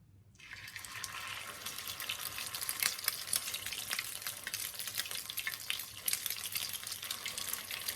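Bacon crab cake patties frying in hot oil, a dense, steady crackling sizzle that starts abruptly and holds close and even, with no voices.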